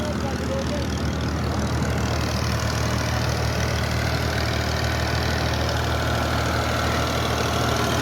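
A small Fiat tractor engine idles steadily at close range, a continuous low mechanical drone that holds level without revving, and a faint murmur of background activity may sit beneath it.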